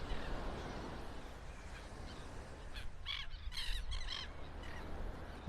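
Crested terns and seagulls on Vanderbilt Beach in North Naples, Florida, giving a short cluster of sharp raspy calls midway through, over steady surf and wind.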